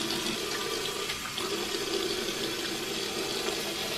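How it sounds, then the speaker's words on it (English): Water runs steadily from a tap while hands are wetted at a sink, a continuous close splashing hiss with small fluctuations and no talking. "So let me go ahead and wet my hands."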